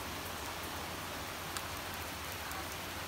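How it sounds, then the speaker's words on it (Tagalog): Steady rain falls outdoors on a morning, a soft continuous hiss with no voices. "Sana tumigil na tong ulan na to"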